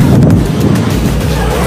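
Wind buffets the microphone on the upper side of an open-air water park ride, a steady low roar that stays loud and unbroken throughout with no talking.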